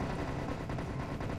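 Gunfire in the VR shooter Serious Sam VR: The First Encounter comes as a dense, continuous roar of shots with no pause, loud and close throughout the short burst.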